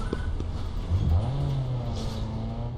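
A car engine revs in Need for Speed Underground 2, with a moderate, steady engine drone whose pitch climbs and holds, mixed with game sounds.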